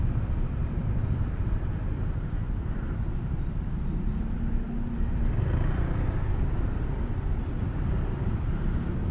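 Traffic on a road with a Toyota Innova and a passing motorcycle: a steady low engine rumble and road noise, continuous and fairly loud throughout, with no talk.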